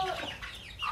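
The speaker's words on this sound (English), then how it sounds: "So Charlie's got one of our chickens here" An Easter Egger chicken gives a short, faint cluck and a few quick throaty notes, heard close but quiet, over soft outdoor background with no talk.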